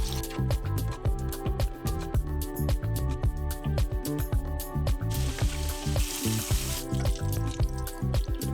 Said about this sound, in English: It's only 1 minute, but bacon is already frying.